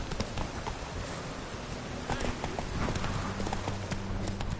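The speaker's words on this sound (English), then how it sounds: "Run, Roach" Hoofbeats of a galloping horse in the video game The Witcher 3 pound on steadily over a dense, noisy background. A voice shouts briefly over the clip-clop.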